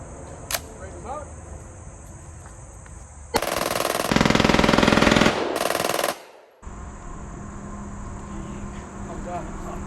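Machine gun fire at a shooting range, a loud sustained burst of rapid automatic shots lasting about three seconds, with a brief second burst following it, amid background noise.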